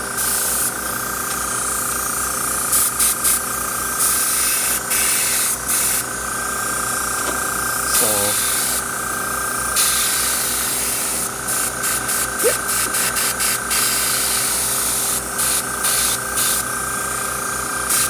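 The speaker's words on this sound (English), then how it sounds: "So just make sure you get everything sprayed that will be visible and needs paint." An airbrush sprays paint in a close, continuous airy hiss broken by short trigger pauses, over a steady compressor hum throughout.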